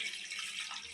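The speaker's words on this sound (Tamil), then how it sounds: "அந்த பால் நம்ம ஊற்றிடலாம்." Thin second-press coconut milk, watery from grinding, pours into a pot while making paal kozhukattai. It makes a soft, steady, faint liquid splashing stream that lasts about a second, with no voices.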